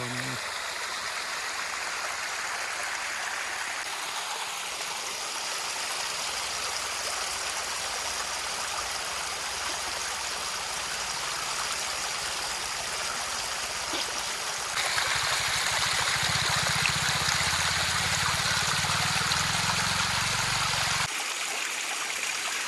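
A small, low-powered waterfall in Mamalakandam forest gives a steady broadband rush of falling water that runs unbroken throughout, growing slightly louder and fuller partway through, with no talk over it.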